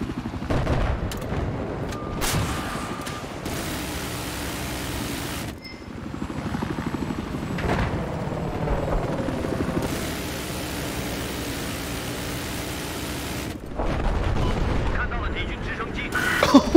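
Helicopter rotor roar mixed with bursts of gunfire and explosions in the video game Battlefield 4, a dense, loud, continuous battle din with sharp cracks throughout and voices talking over it.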